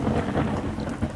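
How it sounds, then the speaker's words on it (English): Heavy thunderstorm with a deep rolling rumble of thunder, strong wind and steady rain lashing down, loud and continuous with no voices. "There's a strong wind,"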